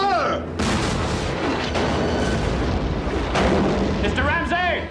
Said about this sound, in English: Mr. Green, the captain says to clear your ports and commence firing